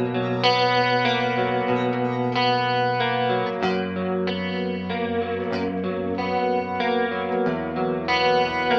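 Electric guitar played through a TC Electronic John Petrucci Dreamscape effects pedal with the effect level fully up, strumming sustained chords with a shimmering, modulated and echoing tone, loud and alone.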